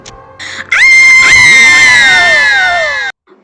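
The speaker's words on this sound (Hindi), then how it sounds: "तावीज की चमक से डायन की एक चीख गूंज उठी" A loud, shrill witch's scream in a horror story, a single long wailing shriek with a harsh, crowing quality that swells quickly and holds for about two seconds before cutting off abruptly.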